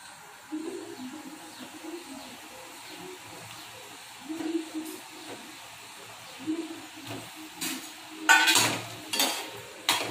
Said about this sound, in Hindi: और इसे 5-6 मिनट के लिए हाई फ्लेम पर लगातार चलाते रहेंगे